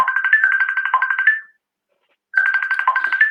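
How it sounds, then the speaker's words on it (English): A phone ringtone plays loud and clear as a repeating melodic chime, stops for about a second, then starts ringing again. "I've got Catherine on the phone."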